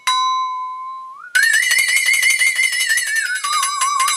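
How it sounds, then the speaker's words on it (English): A Flexatone one-shot sample used in the GTA San Andreas theme: a bright steady metallic tone that glides upward, then bursts into a loud wobbling, quavering shimmer before sliding back down, heard alone. "Next up, we got the iconic Flexatone sound."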